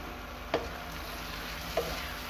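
Potatoes with salt, ginger garlic paste and chopped green chillies fry in a karahi, a soft steady sizzle broken by two brief spoon knocks.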